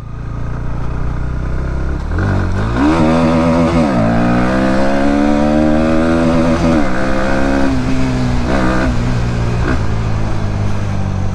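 A 2024 Bajaj Pulsar NS 160 riding in fourth gear gives a loud, continuous engine drone that climbs in pitch as it accelerates, then holds a steady throttle with no voices.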